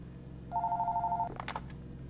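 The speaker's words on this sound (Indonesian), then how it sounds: "Nah, ini ada telepon, kita angkat dulu teleponnya." An old-style telephone rings in the horror video game Fears to Fathom, a single short electronic trill cut off by a click and a clatter as the receiver is picked up; no talk.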